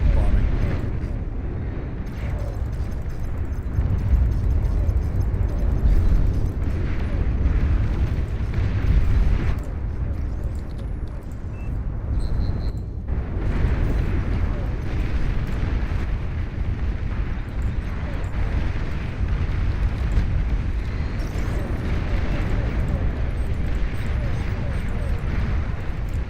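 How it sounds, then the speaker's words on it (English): Torpedo launchers bombing in the strategy game Beyond All Reason set off a continuous barrage of deep, rumbling explosions and booms that roll on steadily, loud throughout with no break. "Just torpedo launcher bombing."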